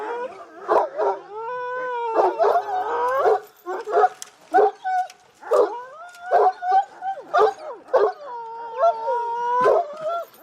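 Several Kangal shepherd dogs in the Erzurum mountains bark and howl together, agitated, with yips and drawn-out wavering howls in irregular bursts, fairly close.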